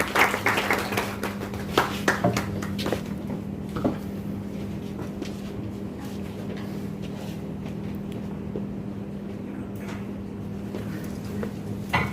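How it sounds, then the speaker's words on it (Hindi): An audience at an Indian trade federation event claps hands loudly, with dense bursts of applause in the first few seconds that thin into scattered claps over a steady hall hum. "तालियां जोरदार बजाइए ताकि ये भी भाषण जोरदार बने"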